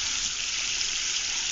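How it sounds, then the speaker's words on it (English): Water runs steadily from a tap to flush out a pipe, a continuous close hiss and gush that holds an even level throughout. "I have to keep the water flowing to clear out the pipe."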